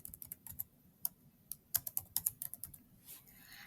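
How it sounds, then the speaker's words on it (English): Fingers type a name on a computer keyboard in quick, uneven bursts of crisp clicks, with a short pause partway through. The keys are near and moderately quiet, and no one speaks. "Right now we're going to type in Barney the Bee's name."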